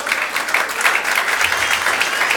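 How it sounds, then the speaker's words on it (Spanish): A church congregation applauds together during a Spanish-language sermon. The clapping is dense and steady, loud and close, and fills the whole moment without pause. "Denle un aplauso al Señor."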